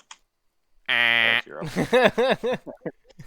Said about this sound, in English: Extremely loud, incorrect buzzer.